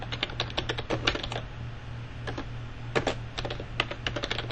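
Steady typing on a computer keyboard, with bursts of quick clicking keystrokes broken by short pauses, close by over a low steady hum.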